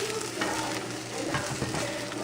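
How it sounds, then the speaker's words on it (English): Hash browns seasoned with salt and pepper sizzle and crackle in a non-stick frying pan, a steady close hiss with occasional stirring scrapes. "You can see they're still sizzling, so that means there's still enough moisture in there."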